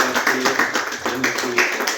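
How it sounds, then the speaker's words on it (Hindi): A crowd applauding police at a live comedy and motivational show, a dense steady patter of many hands clapping together, fairly loud and continuous for the whole span. "तो जोरदार ताली अपने लिए पुलिस के लिए।"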